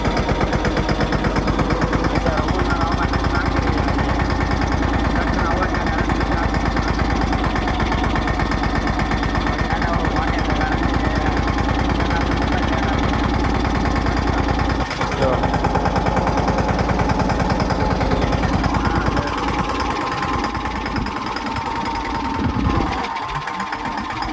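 A tractor engine runs continuously and loudly up close, a steady chugging drone that roughens and shifts near the end.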